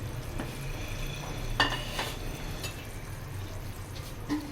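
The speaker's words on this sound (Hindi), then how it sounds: "अब इसके अंदर हम डालेंगे सूजी।" Semolina is added to a pan of melted sugar and milk and stirred, giving a steady soft scraping and gentle sizzle with a few brief clinks and pours, fairly close and without talk.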